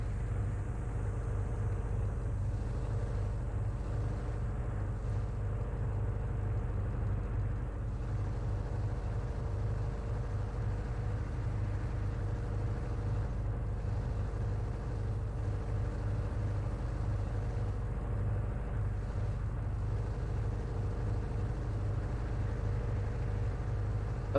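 Loud, steady engine drone of a car in a video game, a constant low rumble running unbroken throughout with no voices over it.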